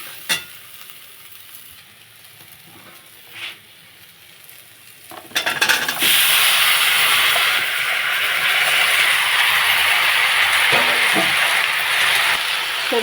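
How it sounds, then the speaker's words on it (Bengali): Mixed vegetables including potato, jackfruit seeds, cucumber, ivy gourd and eggplant tipped into a pan with a little oil, a quiet fry suddenly becoming a loud steady sizzle that continues, no talking. "এর মধ্যে আমি সবজিগুলো দিয়ে দেবো।"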